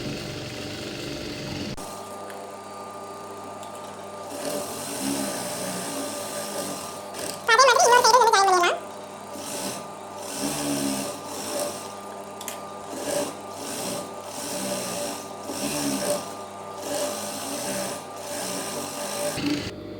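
A sewing machine stitches a seam on a lined blouse, a close, steady rapid whir running through most of the clip, with a brief louder mechanical clatter partway through and some fabric handling.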